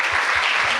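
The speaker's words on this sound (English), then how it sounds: "can we get an applause for Yvette?" Conference audience applauding at a women's empowerment fund event, a dense steady clatter of clapping hands filling the brief moment without speech.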